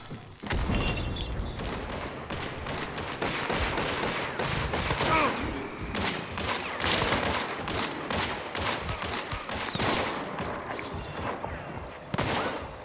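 Rapid bursts of gunfire from dual-wielded pistols in the video game Hunt: Showdown, loud and close, with shots coming in fast clusters and crashing impacts over a constant rumbling backdrop.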